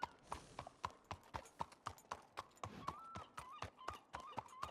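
Horse hooves clip-clop at a steady walking rhythm in a Red Dead Redemption 2 roleplay game, with quiet, evenly spaced strikes and a faint whinny partway through.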